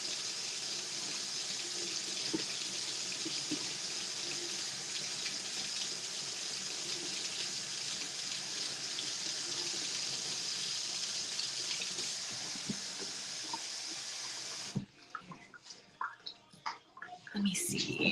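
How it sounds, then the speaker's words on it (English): A tap runs in a steady, hissing stream for about fifteen seconds, fairly close, then shuts off, leaving a few drips and quiet clatter with some speech in the background. "Water."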